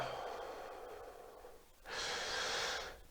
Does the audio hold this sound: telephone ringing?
no